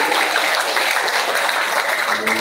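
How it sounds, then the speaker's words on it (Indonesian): Audience applause at a public lecture with the Governor of Jambi: steady, dense clapping from a crowd, fairly loud and continuous throughout, with no talk over it. "Oke, tepuk tangan dulu dong."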